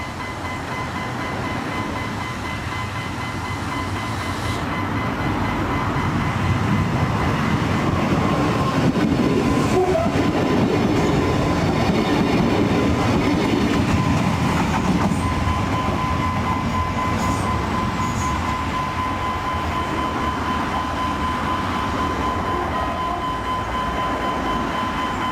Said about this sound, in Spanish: sabemos que se aproxima un tren, en este caso la 969 con destino Bermeo.